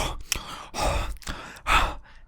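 A voice imitates a small child at a movie theater breathing heavily: a few loud, drawn-out breathy huffs with short pauses between them, close and alone.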